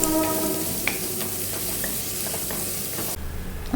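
Crushed garlic and sliced onion sauté in a hot pan for a ridge gourd curry, a dense close sizzle with light scraping stirs throughout and no talking.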